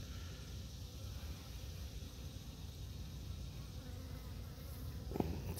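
Continuous buzzing of many honey bees up close on a hive frame, a steady drone throughout with a brief soft knock near the end.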